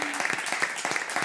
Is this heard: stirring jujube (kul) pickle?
no